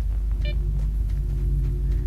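A storm rumbling in S.T.A.L.K.E.R.: Shadow of Chernobyl, a steady deep low rumble and hum underneath faint scattered ambient ticks, continuous and moderately loud throughout.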